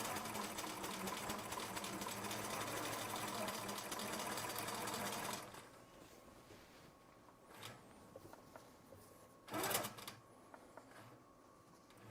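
A Butler Robotics longarm quilting machine whirs steadily while basting a quilt, a close, dense mechanical stitching drone lasting about five seconds before it stops, followed by quiet room sounds with a few faint knocks.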